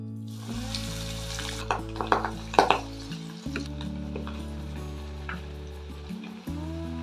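Fish fingers frying in hot oil, a soft steady sizzle with a few crackling spikes, heard close beneath background music.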